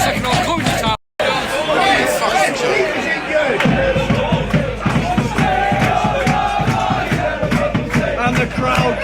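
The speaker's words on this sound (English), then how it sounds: "And the crowd goes mild" Football crowd at a non-league match between Hitchin and Aylesbury, loud chanting and cheering with shouts after a brief dropout, sustained throughout with some rhythmic thumps.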